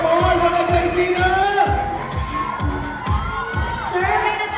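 A lively crowd at a karaoke gathering cheers and whoops loudly and continuously, voices shouting together with a dense, sustained roar close by.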